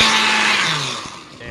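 Short blender pulse mixing oats and other dry ingredients: a loud, close whirring motor that winds down slightly toward the end, with no one speaking over it.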